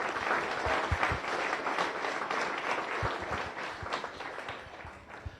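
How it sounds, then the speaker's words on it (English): A Rotary Club lunch audience in Las Vegas applauds steadily, dense clapping from a roomful of people sustained for several seconds and gradually thinning toward the end. "would you please a round of applause for all of our visiting Rotarians,"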